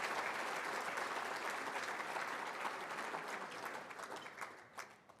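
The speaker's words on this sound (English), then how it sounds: "Let's have another big round of applause for all of the Hall of Famers that came here tonight" An audience applauds at a bowling Hall of Fame induction ceremony, steady dense clapping that fills the room and then thins out and tapers toward the end.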